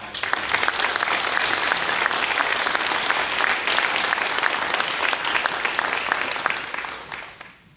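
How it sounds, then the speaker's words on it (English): A crowd applauds students at a school honors night with dense, even clapping. Individual sharp claps stand out through the wash, and the sound stays steady and loud before tapering off at the end. "So give them a round of applause."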